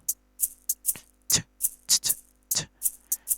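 Shakers layered with a hi-hat in an FL Studio Afro beat: a quick, steady pattern of crisp ticks and airy swishes, some hits fuller and longer, repeating without any voice.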